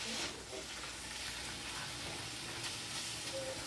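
Taco meat browns in a hot skillet, giving a soft, steady sizzle and hiss that stays even throughout, faint and close with no talking.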